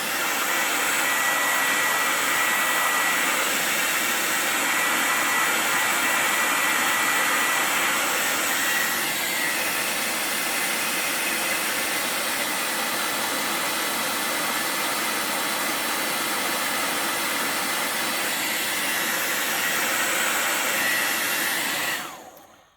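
A heat tool blows hot air steadily on Kiwi extended grips, a loud, continuous broadband hiss like a hair dryer that runs unbroken for over twenty seconds, then cuts off abruptly at the end.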